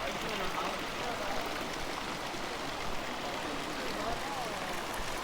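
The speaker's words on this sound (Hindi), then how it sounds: "ऐसे मटकियों से पानी आ रहा है" Water pours steadily from clay pots into a small fish pond at a Balinese temple, a continuous, soft splashing rush with no voices.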